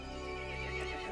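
A horse whinnies in the video game Resident Evil Village, one loud, close neigh with a bright, wavering pitch lasting about a second, heard alone.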